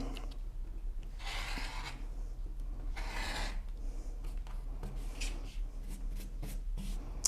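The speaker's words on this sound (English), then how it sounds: "I'm going to go ahead and cut these 2 sides right now" Fabric for quilt half square triangle blocks being cut, with two longer bursts of scraping, slicing sound followed by a series of short, quick cutting and shuffling noises, close and fairly quiet.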